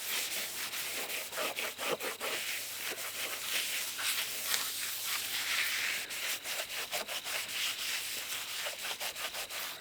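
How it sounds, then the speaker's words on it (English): Peeling clear coat on a Porsche 944 is scrubbed with a wet pad and Simple Green, a close, continuous rough rubbing with rhythmic back-and-forth strokes and no voices. "I'm going to wet this in a bucket. And we're going to start scrubbing."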